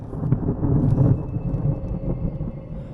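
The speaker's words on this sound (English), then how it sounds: "that was a big roll of thunder and there was a flash of lightning a few seconds ago" Thunder rolls through a storm in the Swedish and Norwegian backcountry, a long deep rumble swelling and fading over a few seconds, heard alone outdoors.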